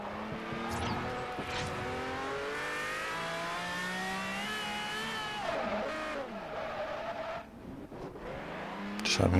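A powerful car in the racing game Forza Horizon roars at high revs, its engine pitch rising and falling through gear changes, with tires squealing as it corners, loud and continuous throughout.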